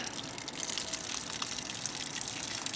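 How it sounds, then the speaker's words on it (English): Water trickling and gushing while an RV fresh water tank fills, a steady hissing, splashing flow close to the microphone with no talking. "We got some water trickling."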